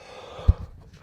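A single short, breathy cough bursts out close by in a quiet room, a brief chesty puff with no talk around it.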